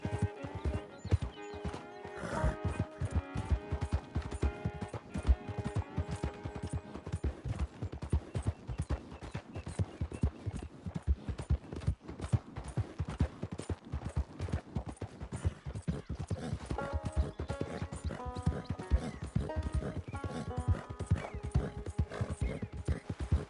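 Horse hooves clip-clop at a steady gallop with repeated neighs and whinnies in a PS4 video game, busy game music layered underneath throughout.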